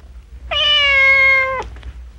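A cat gives a single clear, sustained meow lasting about a second, close and loud in a quiet setting, followed by a few faint small sounds.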